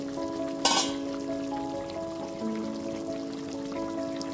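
Chicken rezala cooks in a covered pan over a low-to-medium gas flame, giving a steady soft sizzle and bubbling with one brief louder hiss near the start. No one speaks.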